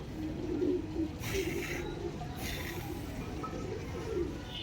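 A black Chinese female pigeon coos softly, a few low throaty murmurs at close range against a steady background hum, with faint rustling around it.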